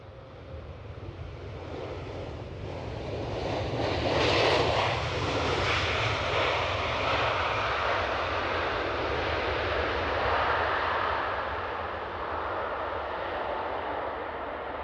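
A WestJet Boeing 737 MAX 8 passes at Edinburgh Airport, its engine roar swelling to a broad peak and holding before fading slightly, steady and moderately loud, with wind noise and no voices.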